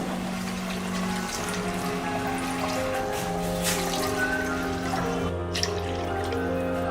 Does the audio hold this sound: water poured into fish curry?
yes